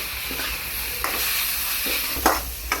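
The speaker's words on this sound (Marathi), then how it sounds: "सगळं आता आपल्याला हे मिक्स करून घ्यायचं एकदा परतून" Vegetables stir-fried with a splash of vinegar for Singapuri noodles give a continuous close hiss and sizzle, broken by several sharp scrapes and knocks of a spatula in the pan.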